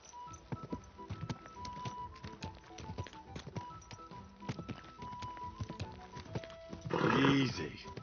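A horse in the medieval role-playing game Kingdom Come: Deliverance II, with hoof clops and tack rattle under game music and speaking voices, ending in a louder snort or whinny near the close.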